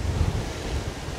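Strong force-6 wind buffets the microphone while cycling in Belgium, a brief low roaring rush with no voices.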